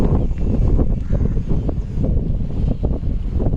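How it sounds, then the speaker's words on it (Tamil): Wind blows hard around a house set among green surroundings, a steady low buffeting roar with rumbling gusts that runs throughout, close and loud, with no voices. "நல்லா விண்டு இருக்குதுங்க, நிறைய காற்று இருக்குது"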